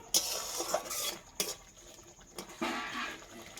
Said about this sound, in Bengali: এখন আমি সেই মাছগুলো ভেজে রেখেছিলাম ওইগুলো আমি দিয়ে দেবো, একটু নাড়াচাড়া করে নেবো